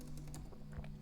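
Quick, irregular clicks of typing on a computer keyboard, heard close but quiet over a steady low electrical hum.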